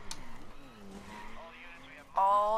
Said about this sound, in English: Drift.